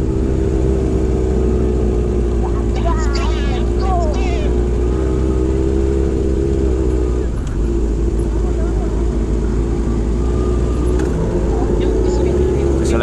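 Motorcycle engine idling and pulling away at the start of a Sunday morning group ride in Lampung, a loud steady drone heard close up, with people talking over it.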